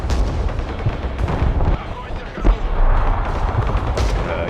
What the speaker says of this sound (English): See the anti-air starting to shoot.